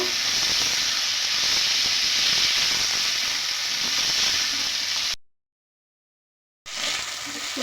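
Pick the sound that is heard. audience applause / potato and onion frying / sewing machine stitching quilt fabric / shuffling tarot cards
potato and onion frying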